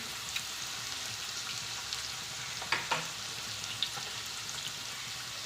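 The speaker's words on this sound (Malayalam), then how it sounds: "സ്പ്രിങ് ഓണിയൻ ഇതെല്ലാം ചേർത്ത് കൊടുത്തതിന് ശേഷം നല്ലതുപോലെ ഇളക്കി കൊടുക്കുക ഈ ഹൈ ഫ്ലെയിമിൽ തന്നെ വെച്ചിരിക്കുക" Beans, carrots, capsicum and spring onion stir-fry over a high flame, a steady broadband sizzle with a few sharp clicks of a utensil against the pan, close and even throughout.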